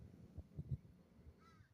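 A crow caws a few times in quick succession outdoors, faint and somewhat distant, with no talking over it.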